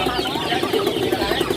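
Chickens at a crowded poultry market in Banyumas, Central Java, held in small baskets, clucking densely and continuously at close range.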